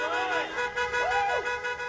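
Car horns honk in short overlapping toots from an excited crowd greeting a senator at a Huntsville campaign stop, a few brief blasts close together.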